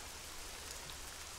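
Rain falling in the survival video game SCUM, a faint, even hiss of steady downpour with no break or distinct drops, low in level and with no voices.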